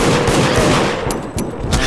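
Gunfire in the video game Deceit, a loud, dense burst of shots running the whole moment with a few sharper cracks near the end, close and with no talk over it.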